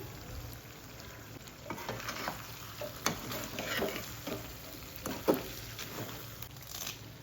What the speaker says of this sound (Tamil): ஸ்லோ ஃப்ளேமில் வச்சு வேக விடுவோம்